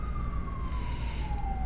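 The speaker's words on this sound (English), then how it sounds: "Cue siren." A siren sound effect played during a live gemstone sale broadcast, a single steady tone gliding slowly downward over a constant noisy background, heard alone without talk.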